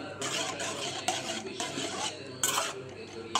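Utensil scraping and clinking against a pot on a stove as a child stirs noodles, in irregular bursts of stirring with short pauses, fairly close and alone without talk.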